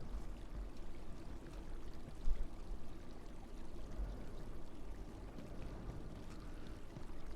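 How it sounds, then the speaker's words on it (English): Water pouring from a wall fountain in the Abiotic Factor video game, a steady soft splashing and trickling stream that runs continuously and fairly quietly. "We've got another green fountain here coming out of the wall"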